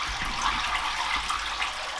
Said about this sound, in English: The water will just drain right out.